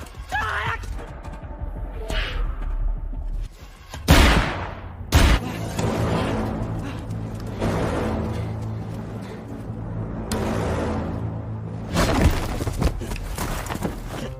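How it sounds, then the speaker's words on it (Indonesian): Sharp gunshots ring out in a film scene as a soldier of the 7th Division fires, with a couple of loud cracks standing out over a dense, dramatic soundtrack. "Kanjiro ditembak oleh prajurit angkatan darat dari divisi 7, Yakunosuke Ogata"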